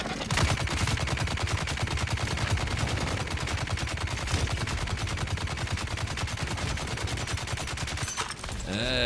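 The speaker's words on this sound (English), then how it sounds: "So this is what this gun does." A heavy gun in the Dune: Awakening video game fires continuously in a loud, rapid, unbroken stream of shots for several seconds, close and alone.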